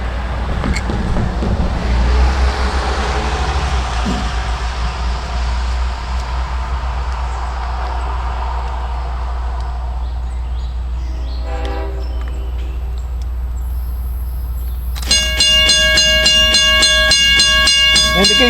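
Long Island Rail Road train 660 passes the River Road grade crossing in Smithtown, a loud steady rumble of cars and wheels with a horn blast partway through and a crossing bell ringing steadily near the end.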